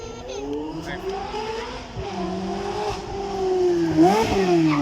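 A Ferrari 360 with a 3.6-litre V8 of 400 horsepower blips its engine on a supercar demonstration run at Beaulieu, the revs rising and falling as it brakes hard and then swelling louder near the end, with a commentator talking over it.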